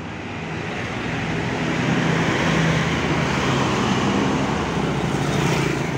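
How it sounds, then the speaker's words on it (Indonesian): A Transjatim bus idles and rolls at the entrance of the Purabaya Bungurasih bus terminal in the early evening, its engine a steady, close rumble over constant traffic noise. "Ada bus Transjatim ini."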